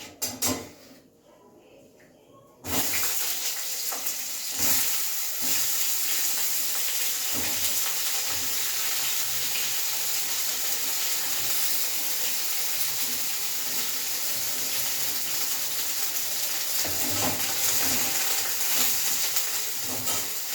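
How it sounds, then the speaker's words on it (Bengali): Eggplant frying in oil in a pan: after a quieter opening, a steady, fairly loud sizzle starts and runs continuously, with occasional soft clicks and knocks in the background. "এবার বেগুনটা ভাজবো"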